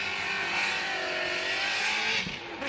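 A drift car on Weld wheels roars loud and close during Formula Drift Atlanta 2017 Pro qualifying, its engine held in a sustained howl before a brief dip near the end.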